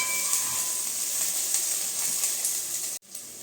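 Green pepper, garlic and parsley sizzle in a frying pan with a steady bright hiss, loud and close, briefly cutting out near the end before resuming, with no voices.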